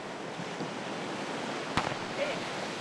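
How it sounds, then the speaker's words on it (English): Ocean surf at Stockton beach during a surf lifesaving competition, a steady wash of waves and wind noise with a brief sharp knock partway through, no voices. "The waves aren't big, but they can make a huge difference"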